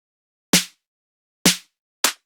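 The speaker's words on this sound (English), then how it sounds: "this is the clap, which is the Odd Frequency clap number 11 and it sounds like this" Three crisp, dry claps from an Odd Frequency sample pack, number 11, each a sharp isolated hit with a short tail, the first two about a second apart and the third coming sooner.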